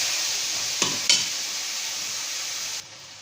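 Potato and capsicum with coriander and cumin powder cooking in a pan, a steady close hiss of frying with two brief stirring scrapes partway through before the sizzle drops slightly.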